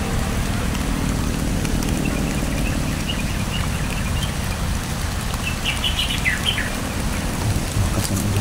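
Heavy rain pours steadily on a mountain, a dense, loud hiss that never lets up, with faint bird calls rising briefly near the end.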